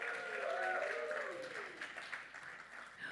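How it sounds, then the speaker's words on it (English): Audience applause at a women's empowerment launch event in India, a dense crowd clapping that fills the room, loud at first and then gradually thinning and fading over a few seconds, with some voices mixed in. "So give yourselves a huge round of applause."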